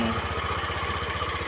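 A Yamaha Aerox scooter, loaded with Aerox parts, idles while warming up, its engine giving a steady, loud, rapid low-pitched putter that runs unbroken throughout.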